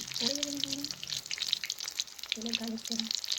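Cauliflower pakora fritters crackle in hot oil with a busy, close, spattering sizzle, while a voice hums or speaks briefly in the background.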